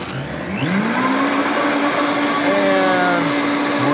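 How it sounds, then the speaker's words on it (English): A kitchen blender in a restaurant runs at a low, steady speed, its motor whine rising as it spins up and then holding a continuous, close, loud drone with no talking. "Okay, so I just got this in my blender here."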